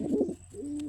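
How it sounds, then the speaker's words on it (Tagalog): A small racing pigeon coos softly in a short, throaty burst of low notes, followed by a brief held tone. "Maliit na ibon lang ito mga kapatids ha."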